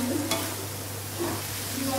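Fried yam pieces are stirred into a masala in a pan, with a few short scraping strokes of a spoon over a low, steady hum of the frying.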